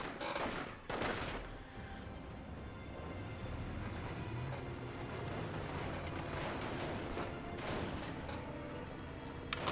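Panzer Grenadiers trade gunfire in the real-time strategy game Company of Heroes, with low, steady rattling volleys and a few sharper cracks under a dull battlefield rumble, fairly quiet and distant.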